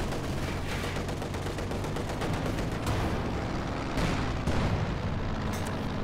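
Mortar shells and gunfire from a Company of Heroes 2 battle pound an anti-tank gun in a dense, continuous barrage of loud blasts and crackling shots with no talk.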